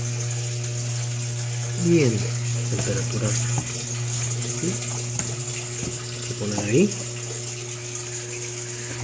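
A Mabe Aqua washing machine that is not washing properly, set to an express cycle with a medium water level, runs and fills with water in a steady hum and rush while a person talks over it.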